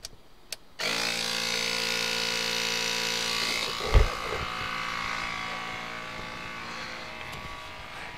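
An EAFC portable air compressor inflates a 265/70 R17 full-size GM truck tire, starting abruptly with a loud, steady electric buzzing drone that holds for several seconds with a brief clunk partway through.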